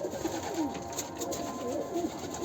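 A female tumbler pigeon coos softly in a loft, giving several low, rolling coos in a quiet, close setting.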